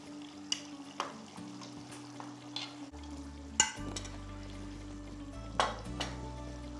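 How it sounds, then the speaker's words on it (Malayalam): Pieces of fish go into a simmering Kerala-style fish curry and are stirred in the pot: soft bubbling and sizzling with a few sharp clinks of a utensil against the pan, close and fairly quiet. "ഇനി നമുക്കിതിലേക്ക് നമ്മൾ എടുത്തു വെച്ചിരിക്കുന്ന മീൻ ഇട്ട് കൊടുക്കും."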